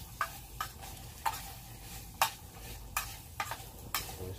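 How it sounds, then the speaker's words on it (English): Spam and Mexican rice sizzle faintly in a canteen cup over a camp stove, with a low crackling hiss broken by irregular scrapes and clicks of stirring. "Starting to get some sizzleage going on in here."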